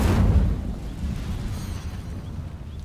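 A fiery Incendio spell bursts and catches on dry vines in a wizarding game, a loud whooshing boom up front that settles into a low, steady crackling rumble.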